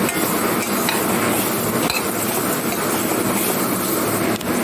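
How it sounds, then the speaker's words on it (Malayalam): Grated coconut roasts in a pan for coconut-based sambar; a steady, dense dry hiss and rustle runs unbroken throughout, loud and close, with faint stirring scrapes. "തേങ്ങ ചേർത്തിട്ട് വറുക്കാം"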